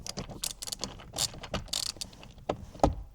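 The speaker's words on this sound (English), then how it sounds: "now we can use our screwdriver to thread them in" A screwdriver turns fasteners into a newly installed car speaker, giving a run of close, irregular ratcheting clicks and small mechanical ticks, with a few sharper knocks toward the end.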